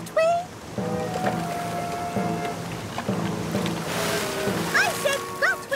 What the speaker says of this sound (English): The waves are getting huge.